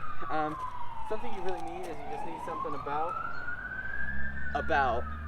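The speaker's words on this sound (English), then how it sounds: "sorry about the sirens." A police siren wails up and down nearby, its pitch sweeping continuously while a person talks over it.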